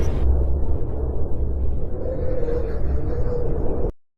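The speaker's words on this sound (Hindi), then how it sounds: "फैक्ट नंबर 5, मंगल ग्रह की आवाज।" Mars recorded on a space mission, heard as a continuous low rumbling roar like distant wind or a muffled eruption, steady throughout and fading out quickly at the end.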